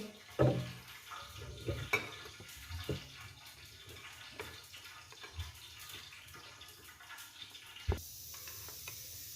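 Gram flour batter with baking powder, cumin and salt mixed with water in a bowl for dahi bhalla: irregular clinks and knocks of a spoon against the bowl over soft wet stirring, close up and without talk.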